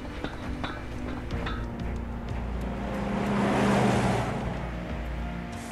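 A truck drives past in the Final Fantasy 7 Remake video game, its engine rumble building to a broad, close swell in the middle and then easing away over steady background hum.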